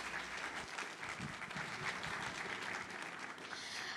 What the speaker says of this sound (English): please give a big round of applause to Professor Ketels